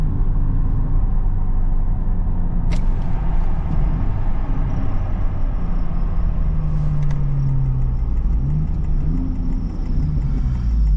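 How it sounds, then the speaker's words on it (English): Deep, droning exhaust of a Honda Civic Type R (FL5) with front resonator delete and valve open, heard from inside the cabin while cruising, a steady low rumble with a slight rise in pitch near the end. "The front resonator delete with the valve open, it just sounds perfect."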